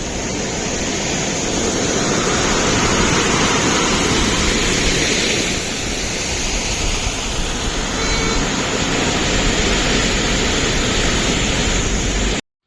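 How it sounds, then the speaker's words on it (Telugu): The Perige Canal waterfall beside a tea estate near Kolukkumalai in Munnar, Kerala, gives a loud, steady rushing roar. The sound holds unbroken for the whole stretch, with no talking. "పెరిగే కెనాల్ వాటర్ ఫాల్ ఇది పెరిగే కెనాల్ టీ ఎస్టేట్ దగ్గర ఉంటుంది"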